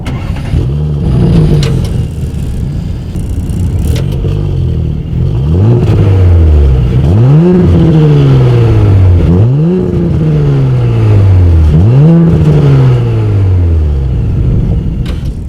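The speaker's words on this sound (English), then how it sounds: "As always, here is that exhaust clip." Close, loud exhaust of a 2019 Audi S4 as its engine is revved in four sharp bursts, each rising quickly then falling back to a throaty idle between blips.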